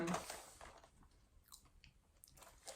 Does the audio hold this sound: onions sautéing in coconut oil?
no